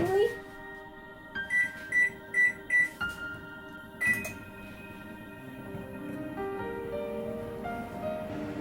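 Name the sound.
microwave oven being set to the cake program, beeping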